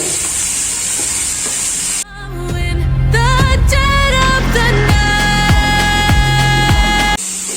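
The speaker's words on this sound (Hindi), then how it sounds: "सब तेल गरम हो चुका है. So now we will put the chicken just in it." Marinated chicken breast drops into hot oil, and the quiet background hiss jumps into a loud, close, crackling sizzle with sputtering pops that keeps going for several seconds.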